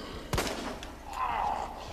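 A single sharp gunshot sounds in the survival-horror game Resident Evil 2, fairly loud against a quiet backdrop, followed by fainter game ambience and a short rising tone.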